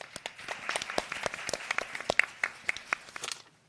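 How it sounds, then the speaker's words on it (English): Applause from a conference audience after a panel session, a brief burst of dense, crisp hand clapping that swells and then tapers off quickly within a few seconds. "Let us show our appreciation by a big round of applause."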